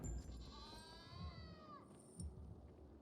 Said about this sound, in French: J'ai électrocuté les chèvres ou quoi? Ça fait un bruit chelou.